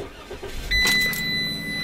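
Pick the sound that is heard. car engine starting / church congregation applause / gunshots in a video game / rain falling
car engine starting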